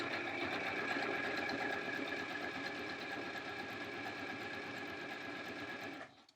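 Sewing machine stitching the fabric of a mermaid tail, a fast, even mechanical whir running continuously for several seconds at close range before stopping abruptly.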